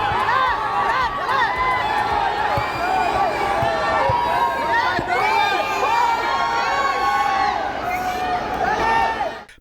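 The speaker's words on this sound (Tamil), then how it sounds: "ஏர்போர்ட்டுக்கு வந்த தோனி அண்ட் கோவை ஃபேன்ஸ் ஆரவாரம் செய்து" Fans cheer and whoop for cricketer Dhoni and the CSK team arriving at an airport, a loud, dense crowd roar with shouts and excited voices that runs unbroken throughout.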